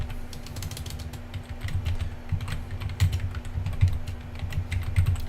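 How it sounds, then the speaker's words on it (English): Rapid typing on a computer keyboard, a steady stream of close, crisp key clicks with a faint constant hum underneath and no talking. "I'm actually typing here."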